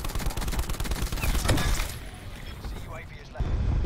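Rapid bursts of gunfire from a video game gun fitted with a hybrid magazine, loud and dense for the first two seconds, then thinning into scattered quieter shots with a louder burst near the end.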